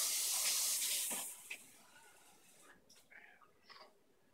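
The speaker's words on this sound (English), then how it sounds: "I'm going to add some hot water." Hot water pours into a Blendtec blender jar with a strong hissing rush that fades after about a second, followed by quieter drips and small clinks.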